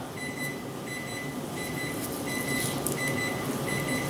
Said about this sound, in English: And turn this timer off.